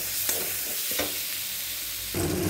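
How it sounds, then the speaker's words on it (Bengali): Spices and chopped tomato fry in a pan, a continuous close sizzle with a few spatula scrapes and a surge of hissing near the end. "এখন একটু টমেটো কুচি দিয়ে দিচ্ছি, দিয়ে আর একটু মশলাটাকে আমি ভেজে নেব"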